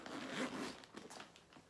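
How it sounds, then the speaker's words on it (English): A big, chunky brass zipper on top of a Fossil shoulder bag is pulled open up close, giving a quiet rasping zip followed by a few softer rubbing scrapes. "Big old chunky zipper on the top. Big zipper here."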